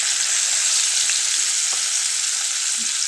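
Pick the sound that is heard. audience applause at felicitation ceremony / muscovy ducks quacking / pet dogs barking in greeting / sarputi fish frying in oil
sarputi fish frying in oil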